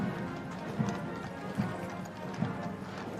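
Horses' hooves of the Blues and Royals cavalry and the drum horse clip-clop along the route of Queen Elizabeth's funeral procession toward Wellington Arch and Hyde Park Corner, a steady, even rhythm of hoofbeats at mid distance over a soft background murmur.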